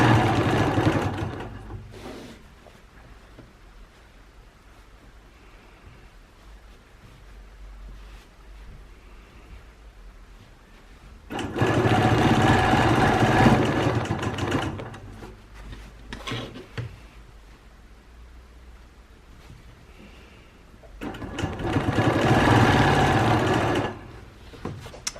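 A sewing machine quilts wavy lines on a penguin-themed quilt in two long, loud bursts of fast, even stitching separated by quieter pauses, with a short burst at the start.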